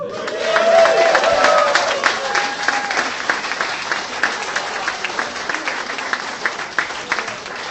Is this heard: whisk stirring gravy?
no